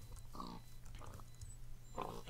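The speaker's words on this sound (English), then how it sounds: "Huge abundance of pigs here." Pigs in Minecraft grunt in short, quiet bursts, three or so oinks spaced apart over a faint low background hum.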